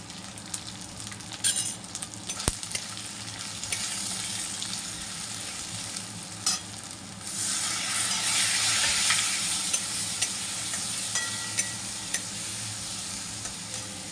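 Kashmiri chili, green chilies and turmeric sizzle steadily in a hot pan, a continuous frying hiss with occasional stirring scrapes that grows louder near the middle.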